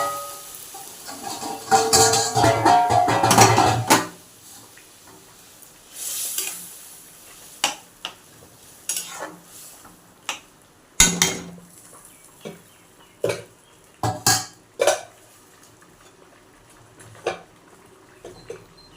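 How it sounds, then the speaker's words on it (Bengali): Boiled vegetable curry is poured into a hot pan of fried coriander and cumin powder, making a loud rushing sizzle, then scattered clinks and scrapes of stirring. "এবার একটু ওই তরকারিটা ঢেলে দেবো, সেদ্ধ তরকারিটা"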